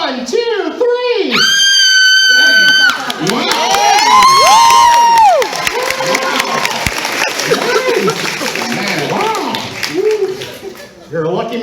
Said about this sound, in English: so I need from you is your loudest scream to sell it. Best horror movie scream.